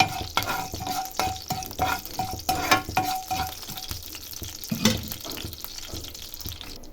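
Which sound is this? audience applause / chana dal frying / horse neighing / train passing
chana dal frying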